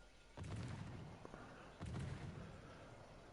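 Warship guns fire in the naval video game World of Warships Legends, two heavy booming salvos about a second and a half apart, each a loud thudding burst that rumbles and fades.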